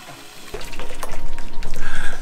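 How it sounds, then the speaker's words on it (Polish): Boiling water gushes from a tap in South Tyrol, a close, loud, splashing stream that starts abruptly and keeps running with bubbling, hissing texture. "kiedy wrzątek leci z kranu"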